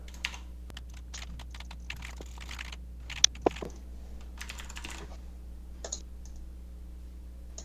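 Keys clatter on a computer keyboard as an account is registered in a management system. The typing is close and steady, with rapid clicks, brief pauses and a few louder clacks over a low constant hum.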